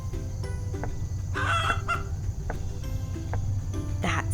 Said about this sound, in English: That sounded like a chicken, said Chip.